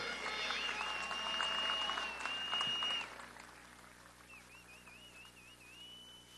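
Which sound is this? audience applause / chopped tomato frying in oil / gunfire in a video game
audience applause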